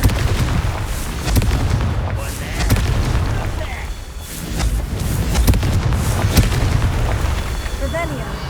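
A Confringo blasting spell explodes in Hogwarts Legacy gameplay, a deep rumbling boom that rolls on with a loud, dense low roar as voices carry over it.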